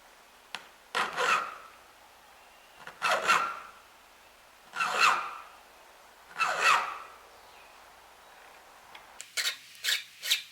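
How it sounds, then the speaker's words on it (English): A small round chainsaw file rasps grooves into wood in five separate bursts of strokes, each a close, gritty scrape followed by a pause, with a quicker cluster of short strokes at the end. "I'm going to switch over to this round file, this little chainsaw file, and I'll make these round grooves"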